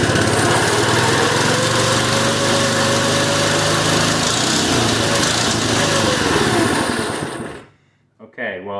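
A small engine on a Doodlebug minibike runs on choke with a temporary fuel line, a loud steady buzzing drone that cuts out near the end, with a voice briefly heard afterward.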